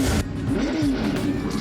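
Ken Block's all-wheel-drive Ford Mustang Unicorn revving its engine at a drag racing event, a loud, close roar with rising and falling pitch across the short burst.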